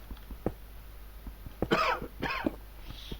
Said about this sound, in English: I'm gonna be coughing again because of damn cold